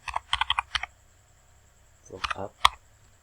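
Computer keyboard typed on while entering an Excel VLOOKUP formula: a quick burst of clacking keystrokes, a pause, a brief voice, then a few more keys ending with one sharp press, close and clear.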